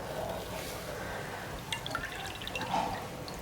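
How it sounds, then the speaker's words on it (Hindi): Floured chicken pieces for a homemade zinger burger dipped into water for coating, giving faint small splashes and drips against a soft kitchen background. "फिर पानी में डिप करना है"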